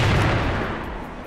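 Gunfire in an online shooter game, a dense burst of booming shots close up that fades slightly toward the end, with no talk over it.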